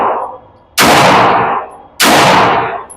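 Two loud, close gunshots from an RIA .45 ACP pistol fired at a target outdoors, about a second apart, each cracking sharply and then ringing off in a long echo.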